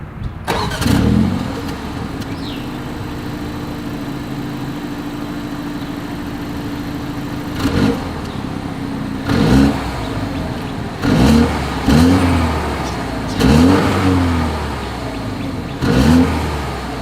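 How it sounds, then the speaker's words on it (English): A 2022 BMW X1 SUV engine cranks and starts, settles into a low idle, then gets several sharp revs with a deep dual-exhaust rumble. "as always, here is that exhaust clip"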